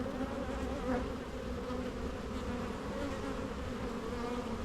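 A dense, steady hum of many honeybees buzzing together in an open hive during an inspection, close and continuous with no pauses or voices.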